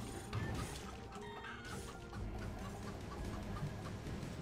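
A video-game chicken clucks in short repeated bursts over a busy background of game sound, with no voices.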